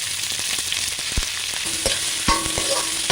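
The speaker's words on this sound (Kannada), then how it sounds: "ಕಲರ್ ಸ್ವಲ್ಪ ಚೇಂಜ್ ಆಗೋವರೆಗೂ ಹುರ್ಕೊಳ್ತಿದ್ದೀನಿ." Large onions and cashews sizzle in a hot pan for chicken ghee roast while a spatula scrapes and clicks against the metal in irregular strokes.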